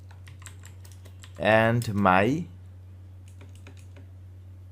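Typing on a computer keyboard while adding text in Photoshop, light scattered key clicks spread across the clip, close but faint over a low steady hum, with a short spoken word in the middle.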